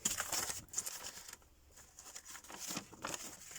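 Paper sheets folded in half and creased for a hand-stitched pamphlet make quiet, close, intermittent crinkling and rustling, with soft brushing bursts and a short lull between handlings, no talking.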